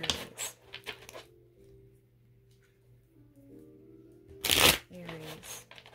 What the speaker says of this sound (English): I'm just shuffling the deck right now to start off.